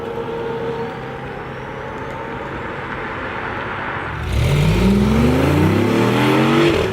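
A BMW i8 Roadster pulls away in electric mode. A quiet, steady hum gives way midway to a louder surge whose pitch climbs steadily as the car accelerates.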